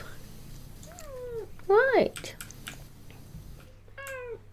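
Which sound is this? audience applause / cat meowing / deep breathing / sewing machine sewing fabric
cat meowing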